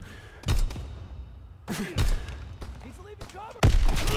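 Gunfire in Call of Duty WWII on a long-range sniper map, with several separate sharp shots and thuds spaced a second or so apart, loud against a quieter background while a player talks between them.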